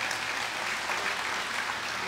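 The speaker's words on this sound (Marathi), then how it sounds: "टाळ्या वाजवा जोरात" An audience at a comedic Marathi kirtan by Satyapal Maharaj keeps up steady, continuous clapping from start to finish, heard somewhat distant and even.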